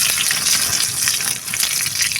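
Cepaki mushrooms sizzle in hot oil in a pan outdoors, a loud, steady crackling hiss with dense spitting pops throughout and no talking.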